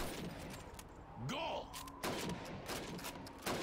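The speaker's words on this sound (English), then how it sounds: "You have 15 seconds to shoot the helmets." Rifle shots crack out at helmet targets during Red Army training in Call of Duty 2, with a few sharp reports spaced across the stretch, mixed with a voice and other game sounds.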